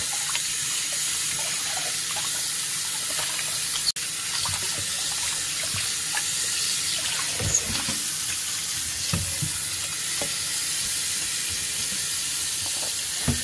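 Tap water runs steadily into a sink as a cut of pork is rinsed for Jamaican jerk pork, making a constant loud splashing rush with small shifts as the meat is handled under the stream.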